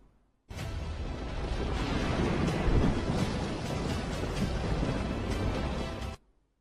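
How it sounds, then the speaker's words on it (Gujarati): Heavy unseasonal downpour with thunder in Amreli district, Gujarat, a dense roaring wash of rain and rumble that cuts in abruptly, swells through the middle and stops just as suddenly, with no talking. "અમરેલી જિલ્લામાં મુશળધાર વરસાદ વરસ્યો।"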